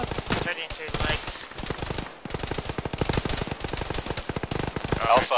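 Automatic gunfire in the military video game Arma during a ShackTac night raid: rapid, sustained bursts of shots crackle close and loud almost without pause, with brief gaps between strings of rounds.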